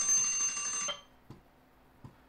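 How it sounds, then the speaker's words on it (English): An alarm rings loudly with a rapid bell-like clatter for under a second, then cuts off, followed by a couple of faint clicks in a quiet room. "that's my alarm."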